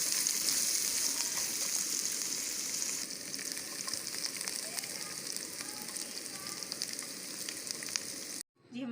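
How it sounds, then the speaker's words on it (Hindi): Carrots, potatoes and bell pepper stir-frying in oil, a continuous close hiss and sizzle with faint scraping of stirring, ending abruptly. "अब हम गाजरें ऐड करेंगे और इनको 1 मिनट तक स्टीर फ्राई करेंगे"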